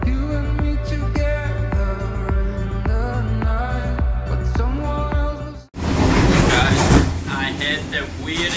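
A passenger train bound for Dar es Salaam rumbles steadily on New Year's Eve, with a tonal musical passage up front that breaks off into a loud rattling rush of carriage noise.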